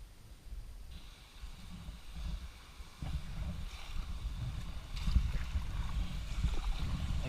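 Seaweed scrapes and rustles against the hull of a small boat circling the island of Eilean Shona, a soft continuous washing scrape that swells louder toward the end, with wind and water noise and no talking.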